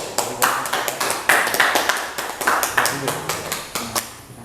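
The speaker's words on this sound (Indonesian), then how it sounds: "Oke, kasih aplaus dulu." Classroom applause as a group finishes presenting, a steady run of sharp hand claps from several students, close and lively, with voices mixed in.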